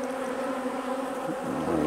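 Honey bees buzz steadily at an open hive during a honey harvest, a dense close hum that swells slightly louder toward the end.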